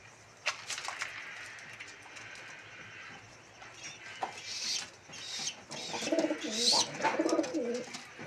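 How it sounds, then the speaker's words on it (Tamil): Romer pigeons, with one in the colouring of a wild pigeon, coo in a series of soft, throaty calls that grow busier and louder toward the end, with faint rustling and brief clicks between them. "நம்மளோட ஒன்று ஒரு ரோமர் புறா இந்த கலர் காட்டு புறா கலரில் வந்திருக்கு."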